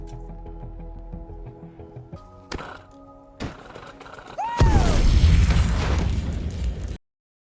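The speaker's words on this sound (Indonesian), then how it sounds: "di percobaan pertama, dia gagal dan menyebabkan ledakan yang melukai dirinya" A hydrogen gas explosion in a film scene with an astronaut stranded alone on Mars goes off as one sudden loud burst after quieter tones, followed by a rumbling, crackling tail that ends abruptly.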